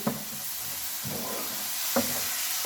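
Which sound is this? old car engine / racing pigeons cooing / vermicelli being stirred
vermicelli being stirred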